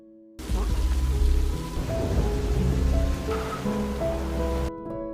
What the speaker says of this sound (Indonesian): Di tengah hujan yang deras, ia lalu meminta bantuan Ashok untuk keluar.